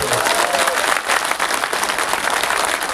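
A large crowd at a political rally claps together with hands raised, a loud, sustained burst of applause filling the whole moment.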